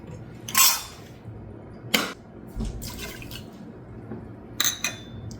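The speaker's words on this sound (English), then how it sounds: "We're gonna add half a cup of water." Half a cup of water is poured into a pot already holding sugar, apple cider vinegar and onion for a peach canning recipe, coming as a few short, splashy bursts with quiet gaps between.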